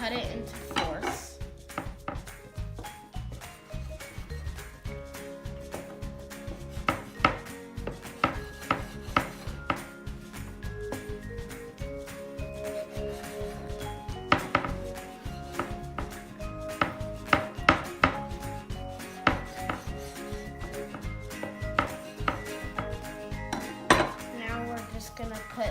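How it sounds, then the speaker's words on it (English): A knife cuts ciabatta bread dough into fourths on a cutting board, giving a steady run of soft chops and clinking knocks over background music, fairly close and even in loudness. "We're gonna make it a circle, and we're gonna cut it into fourths."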